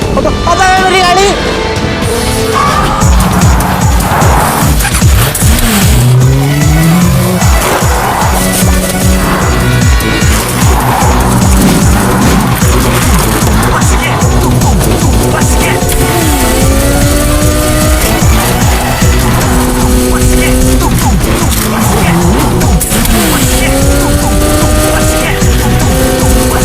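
A car speeds along with repeated tire squeals and skids, loud and busy, mixed with background music and voices throughout.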